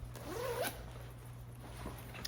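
A zipper on an Indian Motorcycle moto jacket is pulled in one quick close rasp, followed by quiet handling over a low steady hum.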